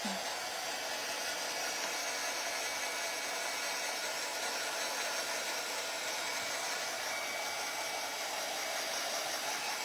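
A hair dryer blows steadily on a corrugated cardboard chick craft, a constant close whooshing hiss that runs unbroken throughout with no pauses.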